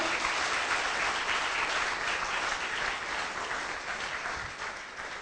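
An audience applauds a contestant at an event, steady dense clapping from a sizeable crowd that holds strong and then tapers slightly toward the end.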